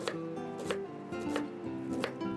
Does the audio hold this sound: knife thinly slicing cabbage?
yes